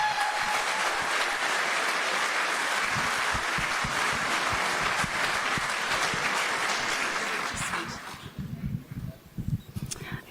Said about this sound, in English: I'd like to give a big loud round of applause for Miss Tanya Clemens.